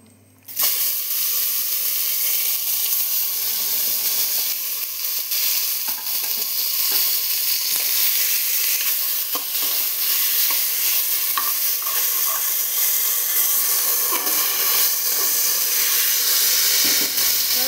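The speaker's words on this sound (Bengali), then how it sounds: "এই যে তেল ছেড়ে দিয়েছে আর চটচট করছে" Meat cooking in hot oil in a pan during spicy stir-frying, producing a loud, continuous close-up sizzle with scattered crackling pops throughout, without any talk.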